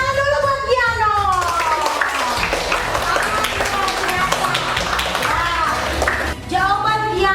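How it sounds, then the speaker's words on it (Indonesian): Schoolchildren in an elementary classroom clap together for a classmate, a steady burst of small hands under children's voices and a teacher speaking at the start and end. "tepuk tangan dulu buat Giano"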